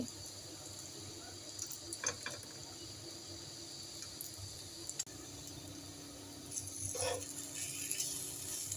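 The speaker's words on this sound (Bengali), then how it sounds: "সবগুলো রুটির পিস দেওয়া হয়ে গেছে একটু একটু করে নেড়ে দিচ্ছি" Soft sizzling of bread pieces frying in a pan, with occasional scrapes and clicks as they are stirred; low and steady throughout.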